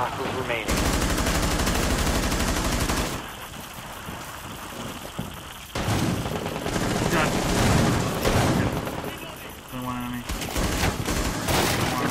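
Gunfire in the Rainbow Six Siege video game: loud sustained bursts of rapid automatic shots with brief lulls, close and dense, with a voice speaking at moments amid the firing.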